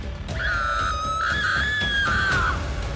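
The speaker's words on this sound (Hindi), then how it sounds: "तभी उन्हें पीछे से उनके बहन के चिल्लाने की आवाज आई" A girl's long sustained scream of terror in a horror story, a single high wavering cry lasting over two seconds, loud and close over a dark rumbling background.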